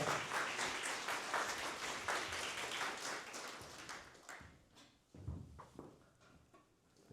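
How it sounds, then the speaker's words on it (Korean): A lecture audience at a university political forum gives a warm round of applause to welcome a guest speaker, dense clapping that thins and tapers off after about four seconds into a few scattered claps. "여러분 뜨거운 박수로서 이광재 총장님을 모셔서 특강을 시작하겠습니다"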